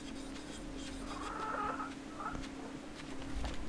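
Chicken clucking in the video game REKA, a few soft clucks over a steady low background hum, faint and alone.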